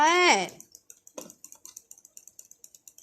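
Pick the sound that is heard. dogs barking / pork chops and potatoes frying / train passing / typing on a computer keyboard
typing on a computer keyboard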